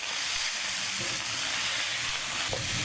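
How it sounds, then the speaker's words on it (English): Morning glory (kangkung) stir-fried with oyster sauce in a hot pan gives a steady, loud sizzle and hiss with a few clanks of stirring, close by and with no talk. "Stir it and turn it over so they cook eventually."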